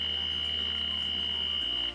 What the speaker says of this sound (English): This fire alarm is for a general evacuation of the L'Oreal Franklin plant.